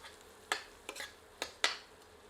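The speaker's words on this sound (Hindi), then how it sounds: "इन्हें 2 मिनट मध्यम आंच पर और भूनते हैं।" A tomato and spice masala is fried in a pan over medium heat, with a utensil stirring it: four sharp, close scrapes and clinks against the pan, spaced irregularly over a quiet background.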